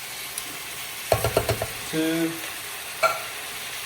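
Diced tomatoes go into a pan of sizzling oxtail curry, with a quick run of clattering scrapes and a burst of frying under a voice counting aloud, then a steady sizzle with one more clink.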